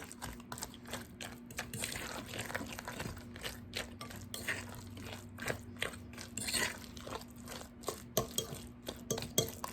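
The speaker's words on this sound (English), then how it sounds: "you can crush up these berries a little bit" Berries being crushed in a bowl for mint berry cookies make faint, irregular crunching and light utensil taps and scrapes in a quiet kitchen.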